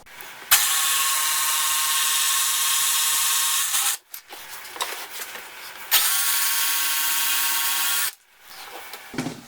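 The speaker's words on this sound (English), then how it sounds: "Just hit it with a little sandpaper and we'll call it good." A power sander working wood for a shoe rack, two long steady high whirring runs of about three and a half and two seconds, separated by quieter handling noises, loud and close with no talking.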